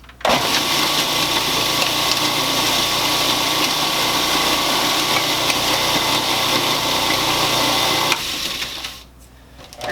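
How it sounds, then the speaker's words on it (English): A food processor with its regular blade runs steadily, chopping butter into a mixture for Hello Dolly bars: a loud, continuous motor whir for about eight seconds, then the motor cuts off and spins down. "So again, food processor, regular blade."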